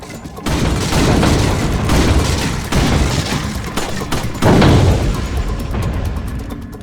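Repeated gunshots from a handgun at a shooting gallery in the video game Resident Evil 4, loud and dense, with booming reports and clattering effects filling the scene and a second burst of heavier shots near the end.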